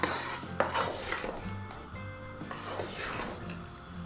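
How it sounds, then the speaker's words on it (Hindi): Chana dal halwa roasted over high heat in a pan, with a spoon scraping and clinking against the metal in quick repeated strokes, fairly faint with a soft sizzle beneath. "इसको हम जल्दी जल्दी थोड़ा भूनते हैं"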